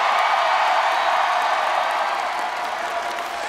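Baseball fans in a ballpark applaud and cheer for a Doosan Bears pitcher, a steady wash of clapping and crowd noise holding at a fairly even level throughout with no clear voices on top.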